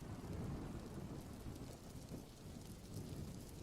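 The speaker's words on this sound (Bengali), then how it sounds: "দেখো, এখন আবার বৃষ্টি এলো।" Morning rain pours down steadily, a dense, even wash of falling water with low thunder rumbling underneath, continuous and without voices.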